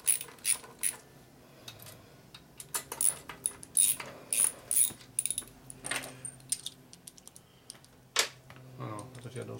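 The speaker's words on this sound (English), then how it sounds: "I need that ratchet whenever you're done with it." Clicking of a ratchet wrench on a motorcycle engine build, tightening cylinder head bolts on a big-bore Harley shovelhead stroker motor, heard as irregular bursts of metallic clicks and jangles close by, with some quiet speech among them.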